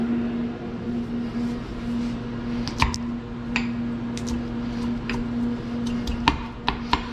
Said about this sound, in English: sliced the ginger first against the grain so that it is easy to smash in the mortar and pestle